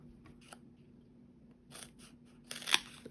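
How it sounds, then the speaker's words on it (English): A few crisp snipping and crunching cuts of scissors through a thick foam sheet, sparse at first and then a quicker, louder burst near the end, with a faint steady hum underneath. "Just with scissors"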